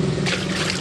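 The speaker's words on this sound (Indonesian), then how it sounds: "langsung saja kita isi mesin cuci ini menggunakan air." Water pours into a washing machine being filled for a carpet wash, a steady, close rushing and splashing noise that runs without a break for under a second.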